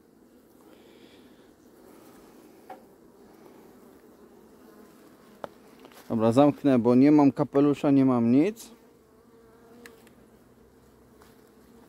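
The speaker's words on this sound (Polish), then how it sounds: "Pszczół pełno." Honeybees swarm around an opened hive colony during a queen-isolation check, a soft continuous buzz punctuated by a loud, close burst of buzzing as bees fly at the microphone, with someone speaking briefly.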